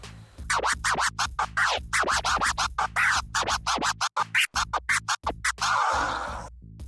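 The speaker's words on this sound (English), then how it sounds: "An example of a baby scratch before the original flare would sound like this." A DJ works a record with baby scratches, then original flare scratches chopped by the crossfader, giving loud, rapid rhythmic bursts over a steady beat and ending in a sustained noisy scrape.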